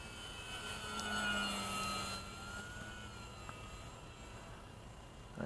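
An FMS Kingfisher radio-controlled model plane flies overhead, its small electric motor giving a steady, moderately distant whine that swells briefly and then fades slightly, with wind noise underneath and no talking.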